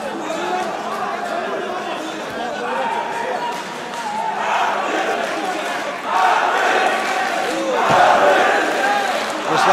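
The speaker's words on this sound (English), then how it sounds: "Arbi has a lot of support here as well. The crowd egging him to try and get back to his feet." Arena crowd at a wrestling bout between Anatoly Tokov and Arbi Aguev roaring, shouting and cheering in support of a grounded wrestler, swelling louder in waves toward the end, with commentary talk running underneath.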